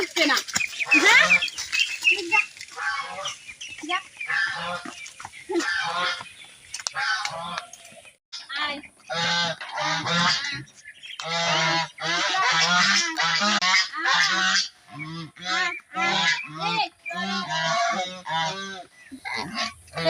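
Domestic ducks honk and quack close by in a rapid, irregular series of loud nasal calls, with brief pauses between bursts.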